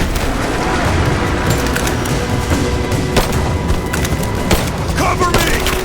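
Enemy soldiers open fire in Rise of the Tomb Raider, a loud continuous barrage of gunshots and booms with sharp cracks standing out, mixed with shouting voices.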